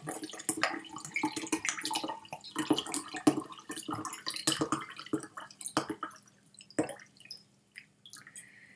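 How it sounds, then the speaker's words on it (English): Water splashes and trickles in uneven bursts, like liquid being poured into a glass, with small drips near the end. "have myself a glass of water"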